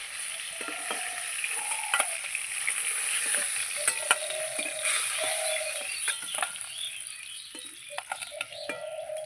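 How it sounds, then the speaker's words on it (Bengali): Fried katla fish being lifted out of sizzling oil, a constant bright crackle with sharp spatter pops and a few clinks of a utensil against the pan. "মাছগুলো আমি ভেজে নিয়েছি, লাল লাল করে ভেজে নিয়েছি, এবার তুলে নিচ্ছি।"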